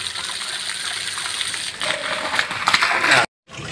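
Water gushes and splashes while a container is filled at a tap near a workers' hostel in Alirajpur, a close, steady pour that grows louder and busier before cutting off abruptly near the end.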